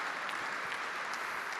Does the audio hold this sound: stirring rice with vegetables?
no